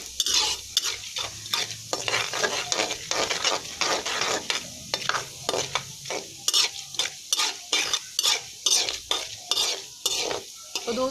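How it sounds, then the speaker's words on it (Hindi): Chana dal being stirred and roasted in a pan for upma, a steady dry sizzle with repeated scraping strokes of a spoon against the pan, close and fairly loud, with no talking. "ये चने की दाल को भी आपको दोस्तों भूनना है, हल्का थोड़ा सा सुनहरा रंग हो जाए"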